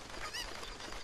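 Cucco chicken in Zelda: Ocarina of Time gives a short squawking cluck, a single brief call rising over a steady backdrop of game ambience, fairly close and moderately loud.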